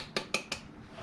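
While cornstarch and flour go into a mixing bowl for fish and chips batter, three sharp, bright clinks sound in quick succession, close and crisp, then fade into quiet room tone.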